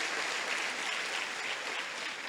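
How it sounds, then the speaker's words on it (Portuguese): A church congregation applauds during a worship service, a steady dense wash of many hands clapping together, evenly sustained and filling the room with no pauses. "Aplauda o Senhor, por favor"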